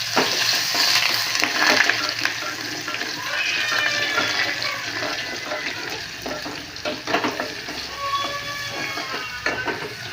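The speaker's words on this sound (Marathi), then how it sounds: "मोहरी भाजली छान असे लसूण घालते" Garlic goes into hot oil with roasted mustard seeds and fries with a loud, bright crackling sizzle, and stirring scrapes against the pan rise and fall throughout.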